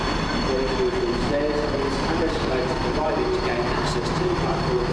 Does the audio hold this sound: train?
yes